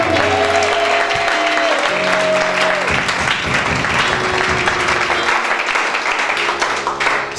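A church congregation applauds and cheers in acclamation of God, loud sustained clapping filling the whole stretch while organ or keyboard chords sound beneath.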